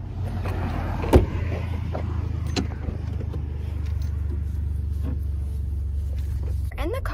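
A car driving on the way to a horse barn, with a low steady engine and road rumble throughout, occasional interior clunks and knocks, and people talking quietly over it.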